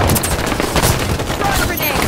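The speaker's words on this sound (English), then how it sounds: "Watch the enemy fire!" Enemy gunfire in Halo 5 rattles in loud, dense bursts of rapid shots over a short stretch, with voices talking underneath.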